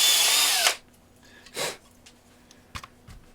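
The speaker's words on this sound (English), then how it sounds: "You could probably drill a little hole." An electric drill whirs loudly for under a second, then stops, leaving a brief motor whine and a few soft clicks and knocks.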